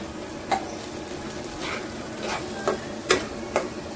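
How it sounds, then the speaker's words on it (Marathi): Semolina (rava) roasts in hot oil in a pan for barfi, with soft continuous sizzling under a few sharp clicks and scrapes of a spoon stirring against the pan, close by and fairly quiet. "तेल अशा प्रकारे गरम करायचं. आता याच्यामध्ये आपण रवा टाकायचा."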